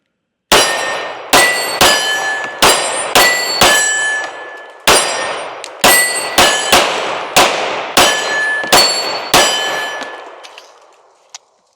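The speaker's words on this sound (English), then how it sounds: "We're just going to shoot it, and we're just going to see what happens." A Springfield XD Mod 3 pistol fires about fourteen loud, sharp shots in an uneven rhythm, each crack followed by a short ringing decay, with brief pauses between groups of shots.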